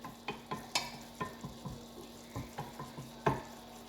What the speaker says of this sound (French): On laissera mijoter cette préparation